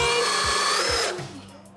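A 20-volt DeWalt cordless power tool runs loud and close with a whirring motor tone, then winds down and fades over the last half second.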